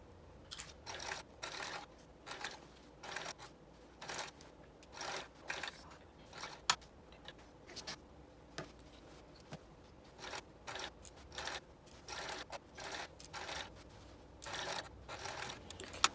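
A sewing machine runs a basting stitch along dress pants with the speed raised, giving short bursts of rapid mechanical clatter that stop and start again and again, fairly faint.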